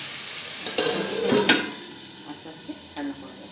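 Meat for a home-style biryani sizzles gently in a pan over low gas, a steady soft hiss punctuated by a few clinks and scrapes of stirring, with no talking.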